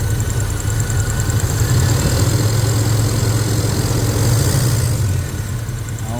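A 1986 Buick Regal engine idles steadily with a suspected lifter tick, a loud continuous low rumble with a faint, fast repetitive ticking riding on top, close up and without voices.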